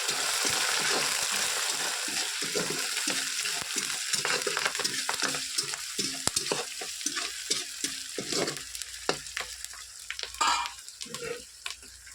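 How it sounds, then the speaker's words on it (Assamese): Meat fries in a pan with bay leaves, giving a close, steady sizzle broken by repeated scraping strokes of a spatula as it is stirred. "এতিয়া খালি ভাজি থাকিম।"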